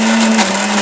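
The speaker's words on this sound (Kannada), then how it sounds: "ಮಿಕ್ಸರಿಗೆ ಹಾಕಿದ್ದೀನಿ. ಈಗ ರುಬ್ಕೊಂಬರೋಣ ಇದೆಲ್ಲ." A mixer grinder blends soaked lentils into coarse batter for vada, a steady loud motor whir with a strong constant hum, uninterrupted for the whole moment and with no talking.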